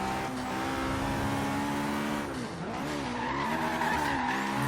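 A turbocharged Honda S2000 with a K20-style engine sound skids under the e-brake in Forza Horizon 3, its tires squealing loudly and continuously over a revving engine that dips and climbs for several seconds.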